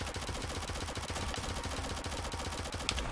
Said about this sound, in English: Someone playing with the rockets here.